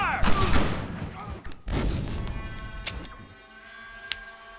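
Gunfire in Red Dead Redemption: a loud burst of several overlapping shots at the start, then another heavy blast, with scattered fainter shots trailing off amid lingering battle noise.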